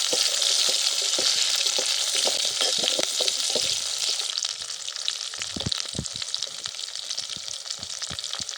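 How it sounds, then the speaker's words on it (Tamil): Onions fry in hot oil in an outdoor cooking pan, a steady close sizzle over which a spoon carved from palm leaf stirs with irregular scraping knocks, the frying hiss easing slightly partway through. "கொஞ்சம் வெங்காயம் நல்லா பொன்னிறமாக வரட்டும்"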